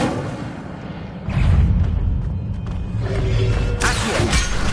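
Harry Potter video game Incendio fire spell erupting: a heavy booming blast that kicks in after a quieter start, followed by sustained crackling roar and a further flare of bright noise near the end, loud and close with no voices.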